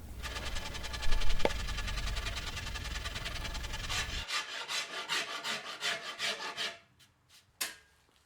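A rasp and scraper working the rounded belly edges of an Osage orange recurve selfbow, giving repeated rhythmic rubbing strokes, close and steady, then several separate strokes with short pauses and a final scrape.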